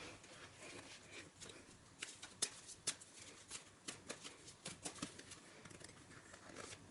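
Bingo cards being shuffled through and pulled from a stack, a quiet run of soft papery flicks and taps close by, irregular and light with no speech.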